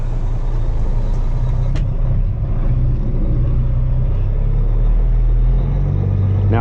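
A custom Peterbilt truck with straight pipes pulls away, its loud, steady diesel rumble and exhaust drone filling the whole stretch, rising slightly in pitch toward the end as it gains speed.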